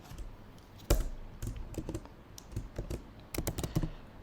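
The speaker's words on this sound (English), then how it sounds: "Here I am going to type one console log" Computer keyboard typing, an irregular run of close, crisp key clicks with short pauses and a few bursts of faster strokes, no talking.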